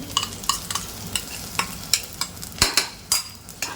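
A spice masala fries with onions over low heat as a spoon stirs through it, making sharp rhythmic scrapes roughly every third of a second above a soft, steady sizzle, close by and without talk.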